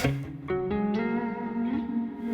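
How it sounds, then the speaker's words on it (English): Sustained guitar notes through a Strymon Timeline ring out washed in heavy reverb, each new note blooming and lingering over the last in a spacious, echoing tail. "a reverb on like a lead and play that loop"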